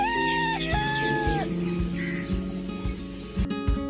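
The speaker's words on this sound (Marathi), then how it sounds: "त्याची चाहूल लागताच कोंबडा बांग द्यायचा." A rooster crows once, a drawn-out, fairly clear call in the opening second and a half, with a soft sustained tonal background and a few light thumps afterward.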